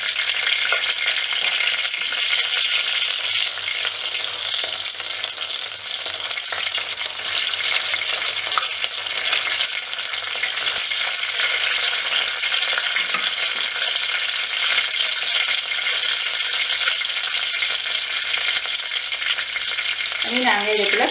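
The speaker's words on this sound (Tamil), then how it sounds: "ஒரு அரை தேக்கரண்டி அளவுக்கு வெந்தயம், அதுவும் நல்லபடியாக பதங்கட்டும்" Fenugreek seeds sizzle and fry in hot oil, tempering for a South Indian mor kulambu, a loud, steady crackling hiss that continues unbroken with occasional stirring.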